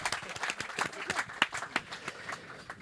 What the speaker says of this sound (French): On applaudit notre hôte, s'il vous plaît